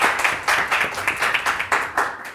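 Studio audience applauding a contestant on a Turkish cooking competition show, a steady burst of clapping with rhythmic swells, fairly close and alone, no voices over it.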